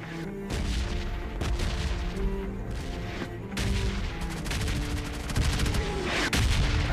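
Repeated bursts of automatic gunfire crack through a PUBG Mobile Lite match from UMP9 and AKM rifles, with sharp shots and rattling volleys recurring across the whole stretch, loud and close over a steady background rumble.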